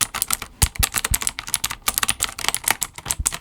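Rapid, clicky typing on a Razer mechanical keyboard, dense irregular keystrokes close up with no voices.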